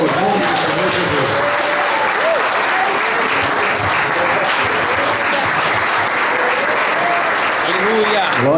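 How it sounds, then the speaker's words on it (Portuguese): A church congregation applauds steadily and loudly throughout as a pastor is welcomed to the pulpit, with voices and cheers mixed into the dense clapping. "Vamos receber o pastor Lauro aplaudindo e glorificando o nome do Senhor Jesus."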